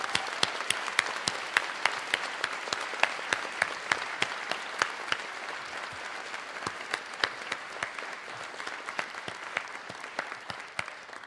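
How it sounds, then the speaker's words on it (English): Graduates and guests at the Purdue Honors College Medallion Ceremony applaud families and friends, with a sustained wash of clapping from a large crowd and a few sharper claps standing out near the front. "please give a round of applause to their families and"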